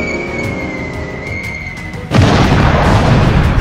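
A bomb explosion in the video game GTA 5 sets off a sudden loud, deep boom that becomes a sustained roaring rumble. An engine drone can be heard steadily before the blast.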